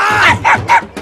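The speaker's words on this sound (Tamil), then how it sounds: "இந்த நாய் வேற அரைபோதில கத்தி தொலைது" A dog barks close by and loud, with three or four quick yelping barks in a fast, even run and no talk over them.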